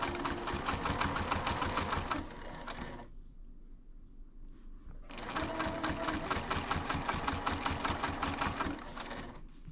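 A sewing machine stitches a seam on a jelly roll quilt-as-you-go project in rapid, loud, close mechanical bursts, pausing for a couple of seconds midway before resuming the fast steady hum and clatter.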